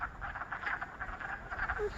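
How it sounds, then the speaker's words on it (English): Wood frogs call on Morse Mountain, a dense, duck-like chorus of quacking croaks repeating steadily at a moderate distance, with no voices present. "But what you hear, it sounds like ducks. They're not ducks. They're wood frogs."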